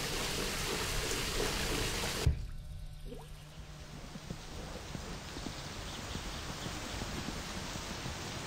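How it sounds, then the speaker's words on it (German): Thunderstorm rain from the driving game My Summer Car, a steady wash of rainfall with a sharp thump near the start after which the downpour continues evenly, close and moderately loud with no talking. "Nee, Ingame ist ein Gewitter, Mann."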